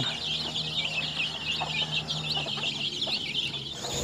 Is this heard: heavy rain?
no